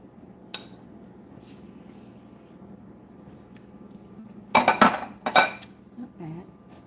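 Sweet potato biscuit dough gets mixed in a bowl: a quiet stretch, then a burst of clattering utensil knocks and scrapes against the bowl with soft squishy sounds, close and fairly loud.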